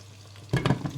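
Breadcrumb-coated mushrooms deep frying in oil: a quiet hum gives way to a sudden burst of close bubbling sizzle with a few stirring pops over about half a second.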